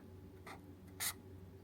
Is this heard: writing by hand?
yes